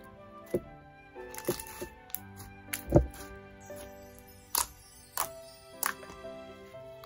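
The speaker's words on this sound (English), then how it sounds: "It inflated really easily and gave amazing bubble pops and crackles." Watermelon-scented jelly slime inflating and releasing sharp, scattered bubble pops and small crackles, several distinct snaps spaced irregularly against a quiet background.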